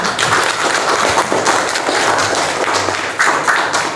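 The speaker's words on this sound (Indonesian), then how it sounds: "Nah, kita tepuk tangan untuk kita semua." Schoolchildren in an Indonesian classroom clap their hands together for everyone, a loud, busy, uneven patter of many small hands filling the room without pause.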